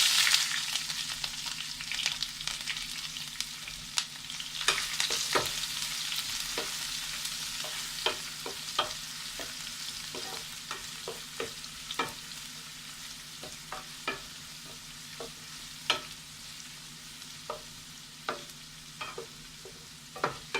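Chopped ingredients for a Kerala-style beef fry, with four dried red chillies, sauté in a pan with a steady sizzle under repeated sharp clicks and scrapes of a spoon stirring, close and continuous, with no talk.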